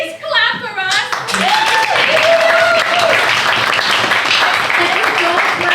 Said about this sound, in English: If you don't clap hard enough, they get sent to the incinerator.